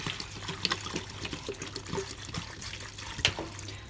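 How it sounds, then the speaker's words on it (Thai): Bottled water being poured into a cooking pot on a home stove, a steady splashing trickle with faint clinks, close and moderately quiet, with no one speaking. "หนึ่งจะใส่น้ำ750 มล. 2ขวดนะคะ"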